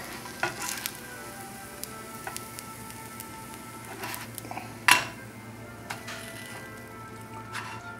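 A grilled cheese sandwich sizzling gently in a pan over low heat, a soft steady frying hiss broken by light spatula scrapes and one sharp metallic clink, no speech.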